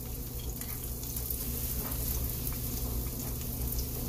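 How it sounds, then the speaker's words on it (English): Beef pieces frying in olive oil in an uncrowded pan for lo mein, a steady close sizzle and crackle that holds an even level throughout with no talking. "now I'm just frying them in olive oil."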